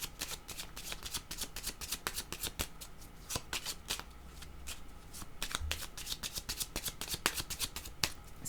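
Tarot cards are shuffled by hand in quick, crisp riffling bursts that repeat steadily, close and fairly quiet, with no voices.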